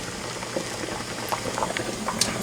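Corn cobs boiling in a pot of water, a steady bubbling simmer with scattered pops and gurgles, close and continuous with no voices over it.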